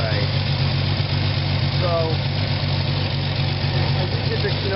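A 1979 Ford F-100 Custom truck idles with an exhaust leak, a steady loud low engine chug and hum running throughout while someone talks over it.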